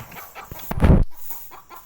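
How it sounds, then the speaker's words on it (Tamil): A chicken clucks in short bursts near a house, with one louder squawking cluck in the middle and fainter clucks before and after. "இங்கே கொஞ்சம் சவுண்டாக இருந்துச்சுன்னா நினச்சிக்கோங்க, கோழி சவுண்டு தான் கேட்கும்"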